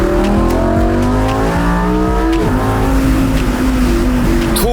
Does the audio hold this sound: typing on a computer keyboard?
no